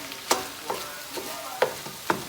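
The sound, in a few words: stirring shrimp paella in a sizzling pan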